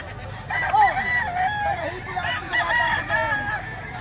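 A rooster crows repeatedly nearby at a chicken market in Lipa, Batangas, Philippines, long wavering calls overlapping with softer clucks from other chickens, with no talking.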